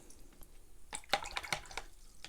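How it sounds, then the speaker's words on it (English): A paintbrush, a long round watercolour brush, dips into clean water with a few small wet drips and splashes clustered in the middle, quiet and close, with soft room noise between them. "I'm just going to grab some clean water"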